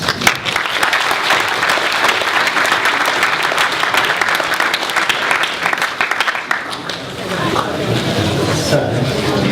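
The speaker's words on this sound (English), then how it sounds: "So a round of applause." An audience claps for a volunteer invited on stage at a quantum computing lecture, a loud, continuous burst that later thins, with talking rising beneath it near the end.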